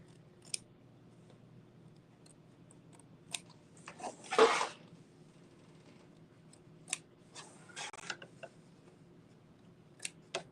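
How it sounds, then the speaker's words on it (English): A few quiet snips of small hoop scissors trimming quilt fabric close to tack-down stitching, spaced apart, with a short burst of rustling midway and more faint clicks later, otherwise near silence. "now I'm using that hoop scissors mini again, and I'm going to trim close to the tack down stitching."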